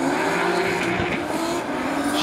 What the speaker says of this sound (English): Mag and Turbo S13 big RB30 powered one, 800 plus horsepower, chasing down the 2JZ powered Nissan of Jerry Zhu.